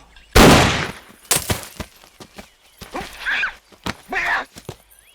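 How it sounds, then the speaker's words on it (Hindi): A sharp loud bang opens, followed by scattered clicks and knocks, then short bursts of voices or noises in the background. "अब गोली चला दो।"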